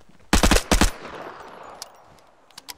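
A six-round weapon fires in the video game Vigor: a burst of loud, close shots in two quick clusters, followed by a fading tail and a few faint clicks.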